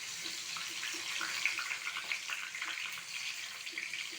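Paneer bajji frying in hot oil, giving a continuous crackling sizzle with small irregular pops, moderately close and steady, with no talking over it.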